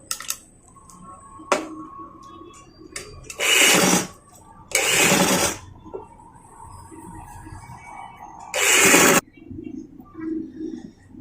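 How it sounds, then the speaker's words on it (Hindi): A sewing machine stitching a small girl's frock: short separate runs of fast, close mechanical whirring, three of them longer and louder, with quiet gaps and faint ticks in between. "तो हम सिलाई शुरू करते हैं।"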